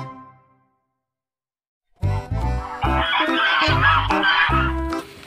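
Following a moment of silence, a goose honks repeatedly in loud, clustered bursts, close by and without talk.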